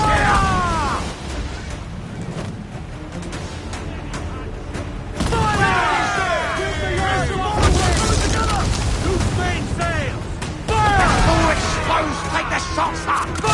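Ship cannons fire in Assassin's Creed Black Flag in repeated heavy booms and rumbling volleys, loud and close, while crew voices shout over the barrage.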